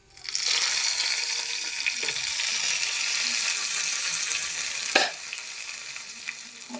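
Curry leaves, dried chilies and mustard seeds for onion chutney crackle and sizzle loudly in hot oil, a dense close hiss starting abruptly, with a sharp clink near the middle before the frying continues.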